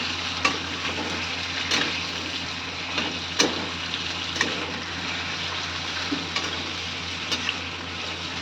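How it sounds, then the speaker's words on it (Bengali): French fries frying in hot oil produce a loud, continuous bubbling sizzle, punctuated by occasional sharp pops and utensil clinks. "আমরা এখন ফ্রেঞ্চ ফ্রাইজ ভাজছি"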